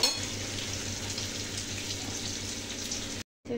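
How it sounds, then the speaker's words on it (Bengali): Mixed vegetables for Bengali sukta, including bitter gourd, potato, green papaya, bottle gourd, carrot and radish, sizzle and crackle in hot oil, a dense, steady, close frying hiss that cuts out abruptly just before the end. "আগে ভেজে নিলাম ভালো করে সবজিগুলো।"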